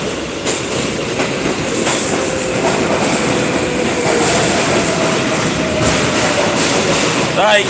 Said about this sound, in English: Train to 34th Street, Hudson Yards. Approaching the station.